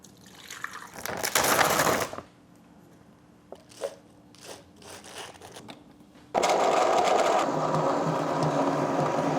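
Vitamix blender, a refurbished unit, blending a mango smoothie with milk and protein powder, roaring loudly in two bursts with a quieter stretch of small clatters between them.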